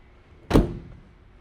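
A race car door's top section is opened with a single short thunk, a close, moderately loud mechanical clunk that fades quickly, with no talk.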